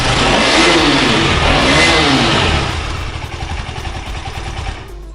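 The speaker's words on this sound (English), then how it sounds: "this is the exhaust mode of this vehicle" A KTM motorcycle, an Adventure 250 or Duke 125, revs its exhaust at a showroom unveiling, a loud close roar that rises and holds, then drops to a rougher, choppy idle with a brief blip near the end.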